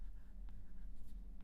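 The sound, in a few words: writing with an Apple Pencil 2nd gen on an iPad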